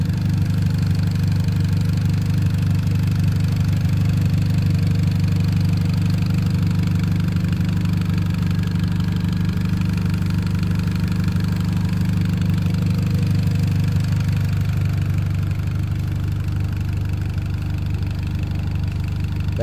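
A modified 2008 Dodge Caliber SRT4 engine idles steadily in its engine bay, a close, even mid-pitched rumble that settles slightly lower toward the end, with no talk.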